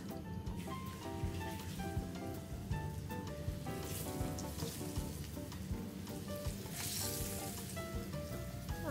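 Chicken pieces with tomato and sulguni cheese frying in a pan give a steady, dense sizzle that runs for the whole stretch, with a few brief clinks and background music layered over it.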